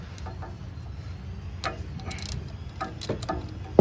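An 8mm bolt on a car AC clutch being loosened counterclockwise gives a run of light ratcheting ticks and small metallic clicks, close and fairly quiet, with a faint low hum underneath.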